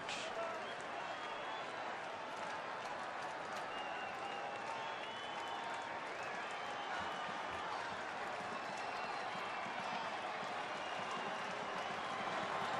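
A large baseball crowd roars and applauds continuously at a distance, a dense, steady wash of cheering with a commentator talking over it throughout.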